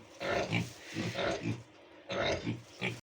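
Young Vietnamese pot-bellied piglets grunt up close in a run of short, throaty, loud grunts and oinks, grouped in bursts, before ending abruptly.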